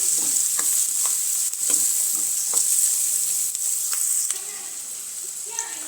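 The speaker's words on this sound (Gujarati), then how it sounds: "હમણાં ધોઈને સાફ કરેલા શિંગદાણા છે તે ઉમેરી દઈશું અને સરસ રીતે સાંતળી લઈશું" Peanuts sauté for poha in a pan, giving a continuous bright frying sizzle throughout with scattered light clicks and scrapes of stirring, close and fairly loud.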